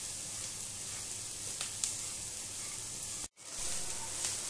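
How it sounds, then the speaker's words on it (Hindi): Shredded cabbage frying in a pan on a high flame, a faint steady sizzle with soft scraping from stirring and one brief dropout. "जब भी हम कैबेज की सब्जी बनाते हैं या कुछ भी बनाते हैं तो तेज फ्लेम पे ही इसे फ्राई करते हैं"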